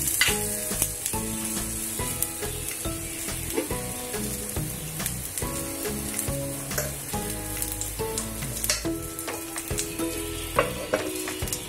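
Tomato omelette frying in oil under a lid on a gas stove: continuous crackling sizzle with scattered pops and clicks, moderately close, steady for the whole stretch with no voices.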